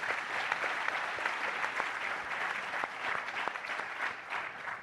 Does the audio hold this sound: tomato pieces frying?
no